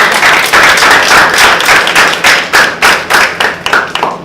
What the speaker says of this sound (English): Ladies and gentlemen, give him a big round of applause